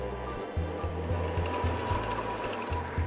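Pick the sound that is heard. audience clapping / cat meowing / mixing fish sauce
mixing fish sauce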